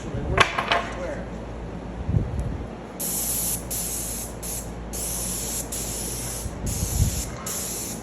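Paint sprayer blasting paint in repeated bursts, a loud broad hiss that starts and stops every second or so, with brief pauses between passes and some low background noise.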